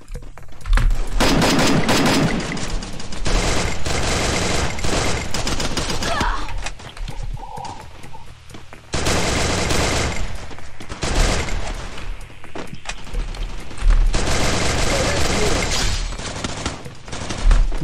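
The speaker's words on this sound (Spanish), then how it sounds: "Ah, me está disparando." Gunfire in Free Fire's zombie mode, long bursts of rapid automatic shots with dense, overlapping reports, close and loud, pausing briefly between volleys before resuming.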